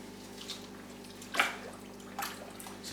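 Coconut husk soaking in a bucket of water is stirred by hand, giving soft sloshes and a couple of brief splashy swirls over quiet background.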